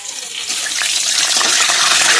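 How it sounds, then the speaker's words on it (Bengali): Onions going into hot oil in a karai wok already seasoned with dried red chillies and nigella seeds, a loud, close sizzle that swells and thickens over two seconds, with no talking. "এই যে তেল গরম হয়ে গেছে। এইবার দিয়ে দেবো পেঁয়াজ"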